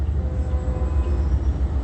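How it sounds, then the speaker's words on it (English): Metrolink commuter train rolling eastbound through Upland, California, near Euclid Avenue: a steady, loud low rumble with continuous broadband rail noise, no pauses or distinct events. "Metrolink is proceeding eastbound."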